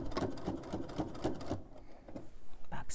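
A sewing machine fitted with a binding foot stitches binding onto a quilt, running in a steady rapid rhythm close by before slowing and stopping briefly, then starting again.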